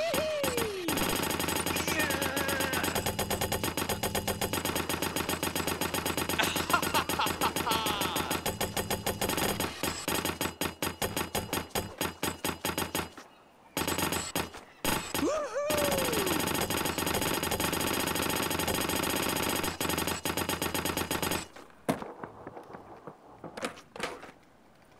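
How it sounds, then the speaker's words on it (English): Grinding skateboard on a rail in Tony Hawk's Pro Skater 1 + 2, a steady loud metallic scrape under game music and effects, running almost twenty seconds before cutting out and leaving quieter sound at the end. "We begin the grind."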